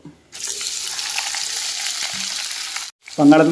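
Potatoes drop into hot oil with a tempering of mustard seeds, chana dal, urad dal, cumin, dried red chillies and curry leaves, giving a loud sudden sizzle that runs steadily, stops, then is followed briefly by a voice.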